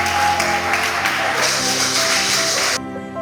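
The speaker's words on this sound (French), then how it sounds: "Je vous invite à lui réserver des applaudissements bien nourris" An audience gives steady, dense applause at a mairie reception in Korhogo honouring Pépé Tchagba Laurent, a close, loud clatter of many hands that cuts off abruptly near the end.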